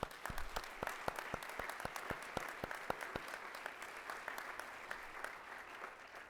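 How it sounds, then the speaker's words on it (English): An audience at a university State of the University address applauds faculty and staff: a few distinct, evenly spaced claps over a soft bed of wider crowd clapping that continues at moderate distance. "you certainly deserve another round of applause"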